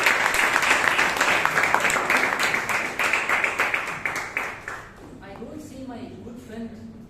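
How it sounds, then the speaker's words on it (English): Audience applause at a Toastmasters meeting: a smaller group claps in an uneven, loosely rhythmic patter that thins and fades after about five seconds, after which a voice speaks. "Let's give one round of applause."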